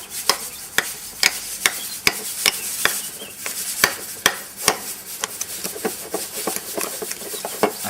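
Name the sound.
spoon mashing roquefort cheese into stuffing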